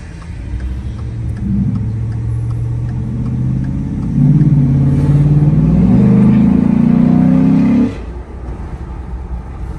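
A car engine revs up through a deep, throaty Corsa Extreme exhaust, the growl rising and holding loud and close before dropping off abruptly.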